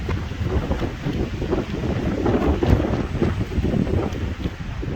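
Steady wind buffeting the microphone outdoors on a hillside at Glentress Mountain Bike Centre, a dense low rumble with gusty swells, loud and continuous with no voices.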